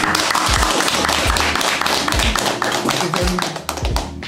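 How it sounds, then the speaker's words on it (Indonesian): A group applauds at a military cadet social service event, loud, close, dense clapping with low thumps mixed in, sustained throughout before tapering slightly at the end. "Iya, tepuk tangan semua."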